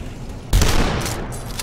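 Pistol fire in the video game Dusk, a sudden loud burst of rapid shots after a quiet moment that trails off into a sustained rattle with a few sharper reports near the end.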